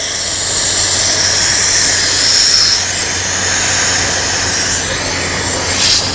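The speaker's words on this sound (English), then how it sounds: "release the exhaust line to let air and water in the line out of the tire" Loud, continuous hiss of compressed air and water exhausting out of a tire through an exhaust line, broad and steady with a faint low hum underneath, sustained throughout.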